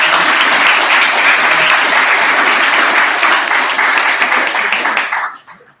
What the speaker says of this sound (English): let's get a round of applause for Danny and Lori